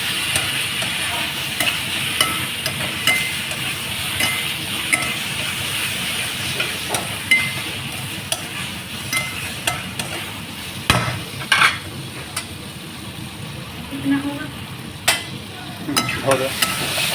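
Spices and chopped tomato stirred and fried in a pan for a South Indian potato masala, with a steady sizzle and frequent scraping stirs throughout, close and fairly loud, no talking.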